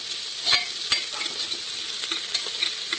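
Spiced rice being fried in ghee in a pan, a steady close sizzle broken by a few sharp spatula scrapes and stirring knocks.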